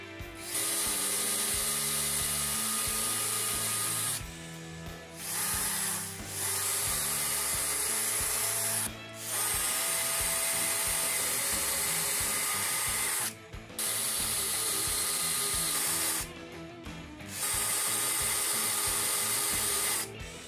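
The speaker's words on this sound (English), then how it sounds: "Now pre-drill and countersink the holes for the screws." A power drill whines steadily in long bursts, pausing briefly between holes, with a grinding bite as it cuts into wood.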